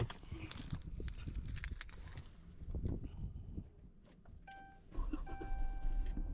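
A 2013 Dodge Charger engine running at an auction lot, amid a low rumble mixed with clattering, knocking noises and brief electronic tones, fairly quiet and uneven throughout.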